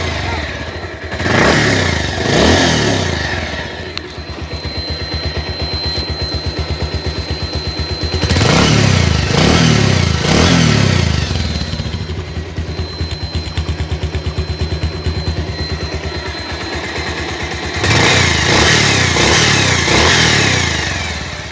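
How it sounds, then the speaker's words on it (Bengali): A Bajaj Pulsar 150 motorcycle engine idles loudly up close, with bursts of revving at the start, in the middle and again near the end. "ইঞ্জিনের সাউন্ড আপনারা শুনতে পারলেন, একদমই নতুনের মতোই বলা যায়"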